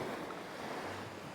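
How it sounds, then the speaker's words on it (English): Mellow waves wash gently onto Chaweng Beach, Koh Samui, a sheltered C-shaped bay, as a soft continuous surf hiss with faint wind and no voices. "The waves are pretty mellow."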